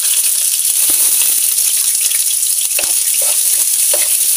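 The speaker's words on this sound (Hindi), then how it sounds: "यहाँ पर देखिए कटे हुए जो है कांदे सभी ऐड कर देंगे।" Chopped onions sizzle loudly in hot oil with curry leaves and cinnamon, a steady broadband frying hiss broken by a few sharp clicks and scrapes of a spoon, with no voices.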